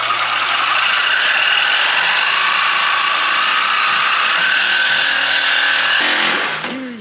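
A power tool cutting the head off a stuck bolt while building an F450 truck: a loud, steady, high-pitched grinding whine held for about six seconds, then winding down at the end.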